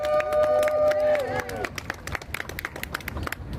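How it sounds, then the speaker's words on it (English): An audience at a live talk event claps in a brief round of applause, dense patter rising over a held tone and crowd noise, with voices mixed in. "Can we get another round of applause for Samina?"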